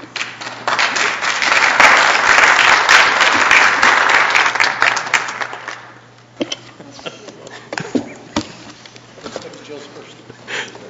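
Applause breaks out at a city council budget committee meeting, a dense burst of many hands clapping for about five seconds before fading into scattered claps, shuffling and room noise.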